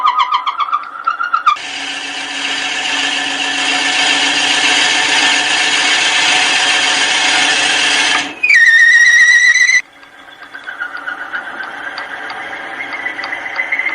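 A drill press runs with a Forstner bit boring into wood, a steady loud whirring with a brief higher-pitched surge near the end as the bit is backed out, then the motor winds down.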